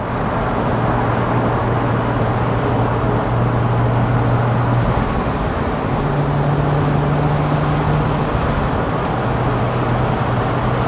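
A Porsche fitted with a lightweight flywheel driving on a road in Mexico, a steady droning engine and road roar heard from inside, with faint tonal shifts as the revs change.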